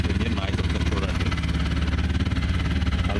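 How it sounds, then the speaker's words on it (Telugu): A brand-new 2025 TVS Apache RTR 160 4V motorcycle engine idles close by, with a steady, rapid, even thumping pulse throughout. "ఇంజిన్ నాయిస్ ఒకసారి చూడండి."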